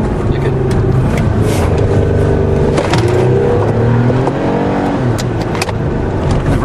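A Toyota pulls away and builds speed, its droning engine tone climbing through the gears, loud and close from inside the vehicle.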